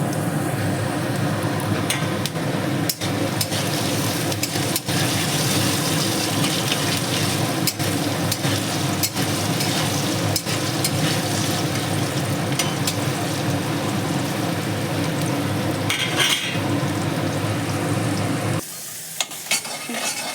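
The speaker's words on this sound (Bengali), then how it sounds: "আলুগুলো সুন্দর করে লাল লাল করে ভেজে নেব। দিয়ে দিলাম অল্প লবণ, সামান্য একটু হলুদ।" Potatoes frying in oil seasoned with salt and turmeric give a steady, loud, close sizzle with occasional stirring clicks, running unbroken before cutting off near the end.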